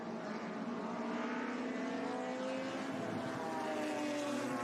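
Racing cars at full push in the closing stages of a race at Laguna Seca during the Monterey Motorsport Reunion, a steady loud engine drone with layered revving tones sustained throughout, no voices.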